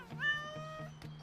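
An animated cartoon cat lets out a single short, clear meow, close and alone.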